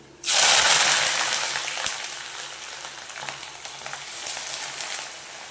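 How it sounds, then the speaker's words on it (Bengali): Chopped onions hit hot oil already seasoned with cinnamon, cardamom, cloves and pepper for a chicken korma, bursting into a loud, steady sizzle that eases slightly but keeps crackling throughout, with no talking. "দিয়ে দিচ্ছি পেঁয়াজ কুচি।"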